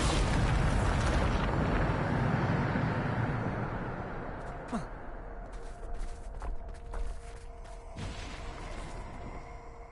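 A powerful Bombarda explosion spell from the Hogwarts Legacy video game goes off with a loud, deep boom, then rumbles and crackles away over several seconds with scattered debris pops.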